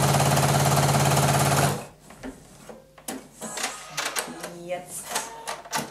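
A sewing machine runs loud and steady for under two seconds while stitching the side seam of a stretchy jogging-fabric dress. It then stops, leaving quieter handling clatter and a voice.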